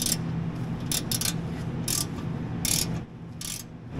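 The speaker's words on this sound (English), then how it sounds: "Now, it's time to tighten the bottom of the winch up because I hadn't tightened those up yet." Ratchet wrench tightening the lower winch mounting bolts on a Jeep Wrangler JK front bumper, short bursts of rapid clicking repeated several times over a steady background noise, close and fairly loud.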